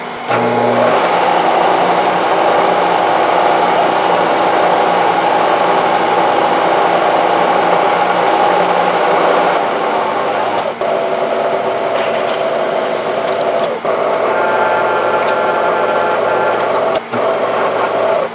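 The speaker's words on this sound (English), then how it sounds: "Next, we need to drill another 1/2 inch hole right in the end and thread it." A half-inch hole is drilled into the end of metal stock clamped vertically, as part of building sawmill blade guides. A loud, continuous mechanical drone with a grinding edge runs the whole time, shifting slightly toward the end.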